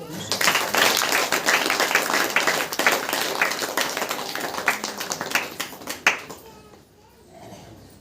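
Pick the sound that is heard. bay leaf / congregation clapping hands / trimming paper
congregation clapping hands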